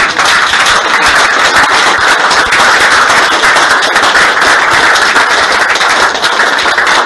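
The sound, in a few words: congregation applauding in church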